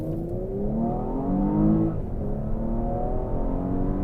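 A Porsche Cayenne Hybrid SUV with 333 horsepower accelerates hard, its engine note climbing in rising sweeps through the gears, loud and close from inside the cabin.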